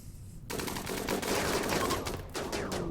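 Sustained rapid gunfire in the colony-building game Rimworld, a dense rattling fusillade starting abruptly after a brief pause and continuing loud without let-up.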